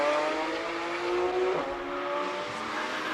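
A Nissan 350Z climbing a hill climb course at the Speed Classic King of the Mountain event in Cape Town, its engine holding a steady strained drone with a rising then dropping pitch, heard from a distance and continuous.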